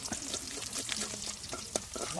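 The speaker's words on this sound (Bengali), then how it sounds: "তারপরে একটু তেজপাতা দিয়ে একটু তেলের উপর নাড়াচাড়া করে নিতে হবে।" Bay leaves stirred in hot oil in a wok for a village-style desi chicken gravy, a steady close sizzle with intermittent spatula scrapes and clicks throughout.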